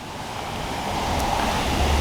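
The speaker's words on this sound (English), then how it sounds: "And the sound of the waterfall and all that." Steady rushing water from a waterfall beside a gazebo in an Abbeville, Louisiana courtyard, a continuous broadband wash heard close and alone, swelling slightly louder toward the end.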